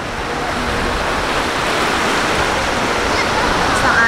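Strong waves at a beach on Boracay surge and wash continuously, a loud broadband roar of breaking surf close by with no talk over it.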